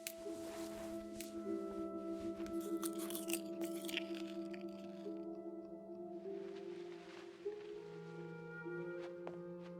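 Food is eaten with repeated crunching and biting sounds in the game What Remains of Edith Finch, in an irregular series of crisp crunches over quiet, sustained background music.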